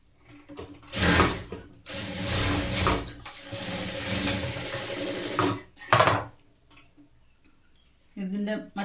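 Sewing machine stitching fabric for a top, running in loud whirring bursts separated by short pauses, with a voice speaking during the quieter gaps.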